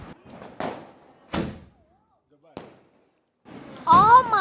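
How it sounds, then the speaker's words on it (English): Diwali fireworks and firecrackers going off: a few sharp, separate bangs are followed by a loud crackling burst with whistling streaks near the end, and voices can be heard around them. "You can enjoy the fireworks, not only just watching."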